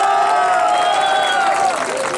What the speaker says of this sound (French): Je vous demande d'applaudir monsieur Guy Métan.